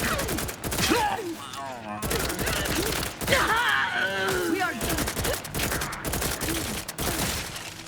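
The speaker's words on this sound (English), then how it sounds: "assault rifle." Assault rifle fire in The Outer Worlds 2, repeated bursts of shots under and between excited talking and in-game voices throughout.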